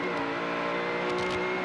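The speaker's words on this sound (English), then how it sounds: "Now you can see him accelerating as he gets into the wind blockage that John's providing for him" A 1995 Australian Touring Car Championship car accelerates hard up the steep hill at Bathurst, its engine a loud sustained harmonic howl rising gradually, with faint commentary-free track ambience.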